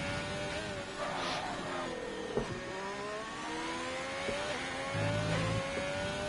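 A Formula 1 car's engine screams through an onboard qualifying lap at Zandvoort in a racing video game, with high revs rising and dropping through gear changes and a steady close drone.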